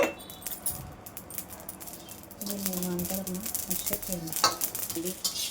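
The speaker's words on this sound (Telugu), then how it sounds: "జీలకర్ర, ఇవన్నీ రోస్ట్ చేసుకుందామండి" Coriander, cumin and sesame seeds roast in a dry pan, with a soft sizzle and the rattling scrape of stirring that grows busier partway through. A faint voice is heard in the background.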